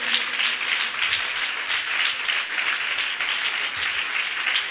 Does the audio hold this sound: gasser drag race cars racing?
no